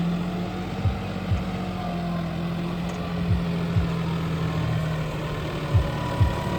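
A new John Deere 5210 4x4 tractor runs at a steady low idle. A constant deep engine hum is broken by a few soft, periodic thumps, close by and with no voices.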